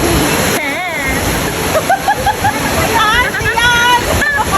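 Water splashes and rushes steadily at Palaypay Falls, a broad, close roar with voices and tonal calls rising over it.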